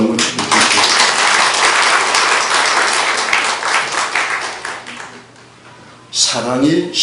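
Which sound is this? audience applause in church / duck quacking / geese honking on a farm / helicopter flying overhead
audience applause in church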